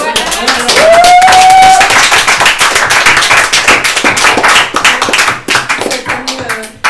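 Clapping from a live event audience for the performing artists, brisk and fairly close, joined by a tonal sound early on and a voice partway through, with the clapping thinning toward the end.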